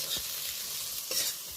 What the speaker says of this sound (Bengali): পেঁয়াজ আর রসুন একসাথে হালকা করে ভেজে নেব।